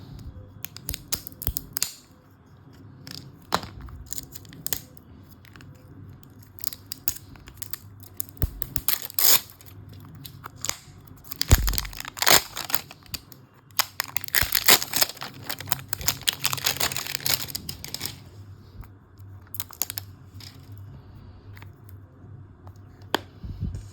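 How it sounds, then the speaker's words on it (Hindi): A tarot and crystal oracle deck in a magnetic box is unwrapped and opened up close: crinkling, tearing and scattered sharp clicks and taps, busiest in the middle stretch, with no talking. "I will be opening this deck"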